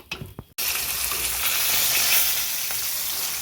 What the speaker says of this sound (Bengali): বন্ধুরা, আমার মাছের মাথাটা ভাজা হয়ে গেছে,